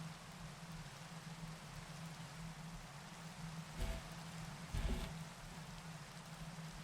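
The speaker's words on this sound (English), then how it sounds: "Even though it's raining, I kind of like that shot." Steady video game rain hisses evenly throughout, with a low background hum and a couple of brief louder thumps partway through.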